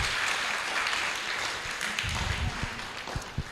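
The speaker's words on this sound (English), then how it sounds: "I'd like us to just kindly give a very hearty clap to Professor Brand for the beautiful present" Audience applause for a presentation at a coastal ocean school in Mombasa, a steady wash of many hands clapping throughout, fairly loud and without talk.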